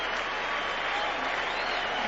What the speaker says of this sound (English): And the crowd giving her great support here, Zoe Goss.